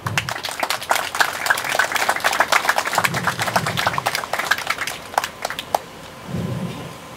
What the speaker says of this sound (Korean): 큰 박수를 부탁합니다